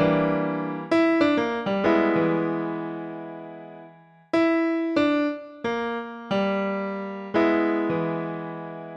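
Piano chords from a song struck one after another, each ringing out and decaying before the next; a quick cluster of chords, a pause, then several slower sustained chords.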